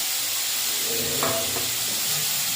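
Steady sizzling hiss of turmeric and chili paste frying in a pan, with a brief brighter crackle and spatter partway through, continuous and close.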